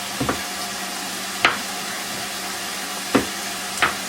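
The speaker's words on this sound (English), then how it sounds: "Just saute it along with the onion when it's half done." Onion with ginger and garlic sautés in a pan for an Indian-style mushroom gravy, giving a steady, soft sizzle broken by a few sharp scrapes of stirring.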